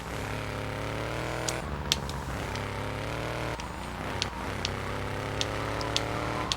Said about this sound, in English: This truck just sounds like a turbo super concentrated fart